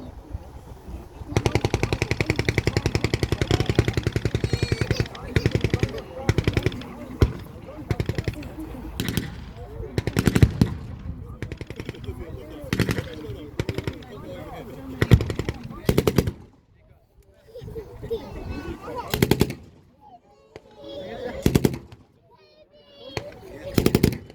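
A German MG-42 machine gun rips out long, rapid bursts from the top of a field during an outdoor WWII battle reenactment, loud and close, with short gaps between volleys and voices in the background.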